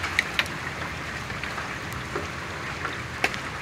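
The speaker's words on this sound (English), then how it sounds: "I've never seen it rain this hard. Never seen hail that big before." Heavy rain and large hail pound down during a 2019 storm near a shop, a steady dense wash of rain with scattered sharp hailstone hits on top.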